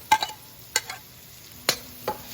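Ginger sautéing in a pan with a few short sharp sizzles and clatters, four distinct bursts spaced out against a quiet background.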